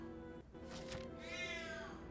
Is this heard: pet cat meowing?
yes